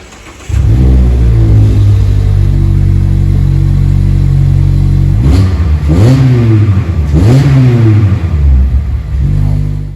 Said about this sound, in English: I do love the noise of the car